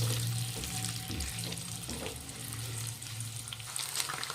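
Boiled eggs fry in oil in a pan, giving a moderate, steady sizzle with a low hum beneath and occasional stirring sounds throughout.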